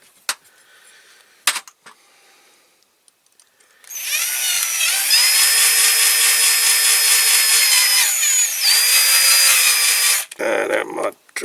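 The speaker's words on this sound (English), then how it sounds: "Keep trying the drill bit, the rivet in the" A power drill drills out a rivet in the post of a Dinky Toys Cunningham C-5R die-cast model car. Steady loud whine for about six seconds, with a brief pitch dip partway through, after a few faint knocks and followed by clattering handling.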